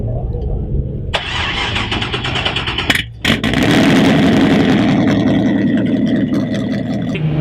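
A Chevy LS1 with LS6 bolt-ons, a big cam and long-tube headers, swapped into a 1996 Nissan 240SX, cranks, catches and fires up into a loud, lumpy idle, heard close up.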